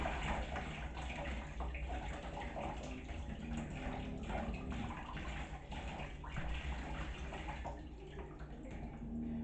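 Rinse water pouring out of a homemade wine container, a steady continuous splashing gush that runs the whole time without pause, fairly close and moderately loud, with no voices.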